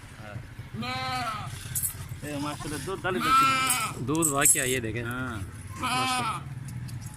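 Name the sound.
goats bleating on a farm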